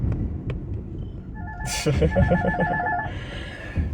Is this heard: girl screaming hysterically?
no